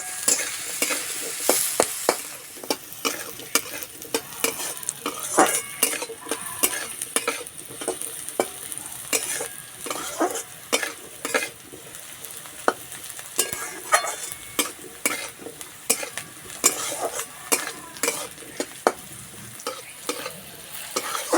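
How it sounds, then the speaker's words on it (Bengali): Leftover rice and vegetables sizzling in oil in a pan, stirred repeatedly with a utensil scraping and clinking against the metal, close up, with the frying hiss running throughout. "হালকা লাল করে ভেজে নিতে হবে।"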